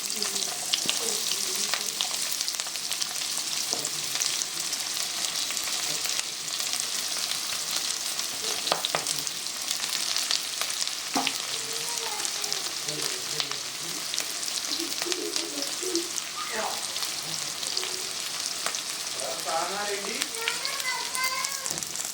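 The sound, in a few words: green chillies and onion frying in a pan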